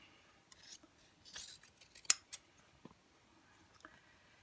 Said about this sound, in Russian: Я вырезаю очень близко к строчке, где-то на расстоянии 3 миллиметра, 3-4 миллиметра, не больше.